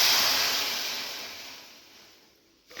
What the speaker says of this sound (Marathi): पाणी टाकू वाटी भरून हे बघा